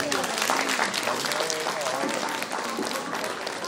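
A large concert crowd in Bihać keeps up full, even applause for the Banjalučki vez ensemble, thick and continuous throughout with a slight dip near the end, with faint voices mixed in.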